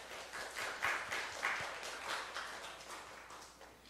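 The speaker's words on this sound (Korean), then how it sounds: "우리 전도사님 박수로 환영하도록 하겠습니다" A church congregation applauds to welcome a preacher, a steady patter of hand claps that swells in a few bursts and then gradually tapers off, with no one speaking over it.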